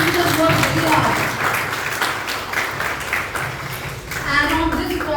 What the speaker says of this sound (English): huge round of applause for the students work here